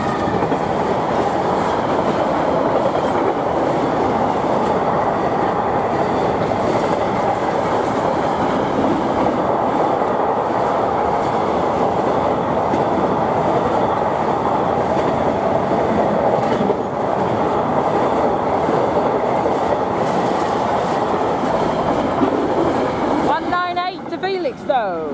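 A Class 66 diesel freight locomotive, 66198, hauls a freight train from Wakefield to Felixstowe past Regent Street level crossing, a loud, steady rumble of engine and rolling wagons with rhythmic wheel clatter for the whole stretch, fading abruptly near the end.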